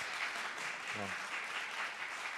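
The crowd at a tech-community fireside chat and meetup applauds in a continuous, fairly soft wash of clapping, and a brief voice cuts through it near the middle.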